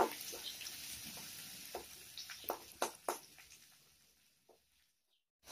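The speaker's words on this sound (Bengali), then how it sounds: "পেঁয়াজ কুচোটা লাল লাল করে একটু ভেজে নেব" Chopped onions fry in oil in a pan for a taro and potato curry, giving a soft, quiet sizzle with a few sharp stirring clicks before it fades away.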